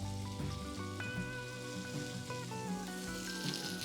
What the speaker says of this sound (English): is allow my fish to sear in the pan